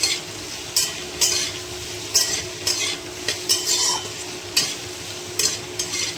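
Stuffing of tomato and onion frying in a pan, with a soft continuous sizzle broken by repeated scraping stirs of a spatula every second or so, close up and with no talking.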